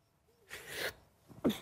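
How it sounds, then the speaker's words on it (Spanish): A single fairly faint sneeze bursts out near the microphone, then a short breathy vocal sound follows. "Perdón, estornude."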